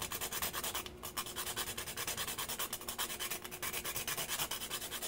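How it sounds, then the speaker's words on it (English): Fresh nutmeg is grated over a gratin dauphinois potato dish, giving quiet, rapid, rhythmic rasping strokes that continue evenly throughout with no talk. "I'm going to grate some fresh nutmeg in there."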